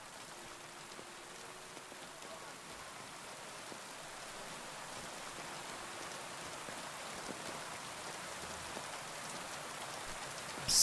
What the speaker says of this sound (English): Sat out in the rain.